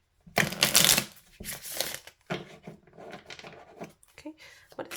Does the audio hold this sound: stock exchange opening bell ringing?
no